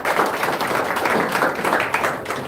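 A crowd at a joint press conference applauds the Labour National Chairman with a continuous wash of clapping that holds at a steady level throughout.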